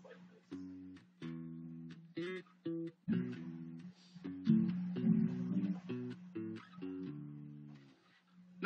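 Bass guitar plays the repeating riff of a song in a lesson setting: clear, punchy plucked notes in short rhythmic phrases with brief gaps, close and moderately loud, no talking.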